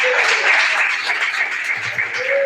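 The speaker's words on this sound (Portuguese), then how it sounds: "Receba, né, o irmão Gabriel, com as palmas que exaltam o nome do Senhor Jesus." A church congregation at a worship service applauds to welcome a preacher, with dense, continuous clapping filling the room at an even level from start to finish.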